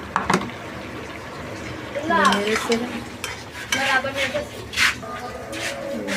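Pieces of liver are dropped into a pan of cooked-down spiced masala, giving a soft sizzle with stirring and scraping while someone talks throughout.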